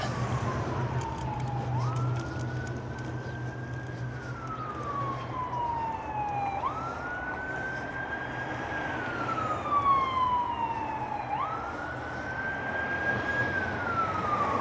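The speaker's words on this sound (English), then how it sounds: "There's an ambulance coming" A wailing ambulance siren rises and falls in slow, repeating sweeps over steady traffic rumble, staying fairly prominent throughout, heard from a folding bike ride.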